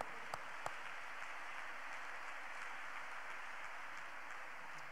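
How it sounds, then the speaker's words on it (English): A church congregation claps together in a faint, steady wash of applause heard from a distance, with a couple of sharper claps near the start. "So let's clap unto God and appreciate him."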